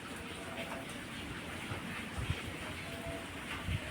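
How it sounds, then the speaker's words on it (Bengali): Steady rain hisses across the whole stretch, a broad continuous wash with occasional heavier drops or thumps rising from the low end. "তোমরাও বৃষ্টি দেখো আমিও দেখছি"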